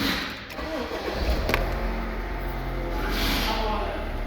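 A Honda Stream car engine cranks and starts up nearby, settling into a steady running rumble.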